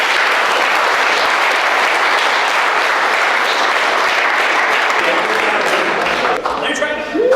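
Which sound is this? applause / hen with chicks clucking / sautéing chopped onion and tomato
applause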